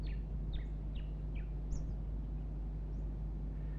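Diamond firetail finches give a run of short, thin, high calls, about four in quick succession and then a couple more spaced out, faint over a steady low hum.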